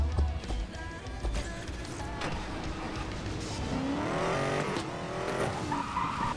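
Engine roar and tire noise from a car racing in the video game Need for Speed Most Wanted 2012, with revving pitch sweeps and skids layered over continuous driving sound.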